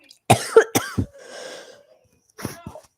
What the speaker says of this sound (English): Why am I having a coughing attack